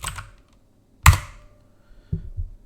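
Someone types a word on a computer keyboard while working through a John the Ripper password-cracking exercise: a short burst of key clicks, one sharp loud keystroke, then a few softer taps, close up and alone.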